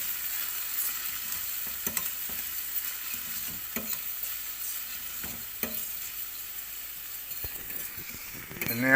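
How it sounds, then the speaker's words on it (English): Capers fry in a hot pan for salmon pasta, giving a steady, bright sizzle with occasional small pops and stirring clinks, close and continuous throughout. "And go your capers."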